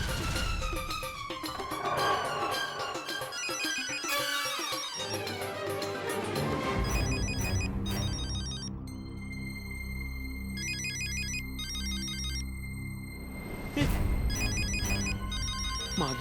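A mobile phone rings in a house kitchen scene, its ringtone tones repeating over a busy musical background for most of the span, loud and continuous without speech.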